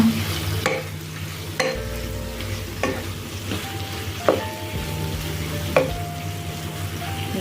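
Steady sizzling of vegetables stir-frying in a hot pan, punctuated by sharp clanks of a utensil stirring and scraping at irregular intervals.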